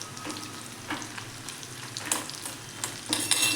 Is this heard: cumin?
yes